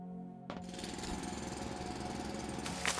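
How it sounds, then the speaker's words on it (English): A drilling tool bores away a tree in the voxel factory game Foundry: after a brief quiet hum, a harsh, loud, rapidly hammering drill noise starts abruptly and runs continuously to the end. "Drill away yet another annoying tree."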